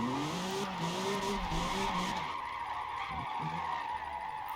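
Car tires squealing and skidding through a long handbrake drift on stock tires in a racing video game, a sustained screech over a revving engine drone that eases off partway through.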